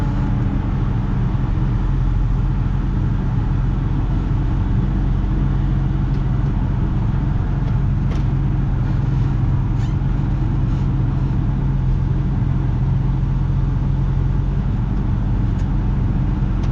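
Tractor engine crawling uphill in a low gear on a long haul across Wyoming, a steady, loud low-pitched drone that holds constant throughout with no talk over it.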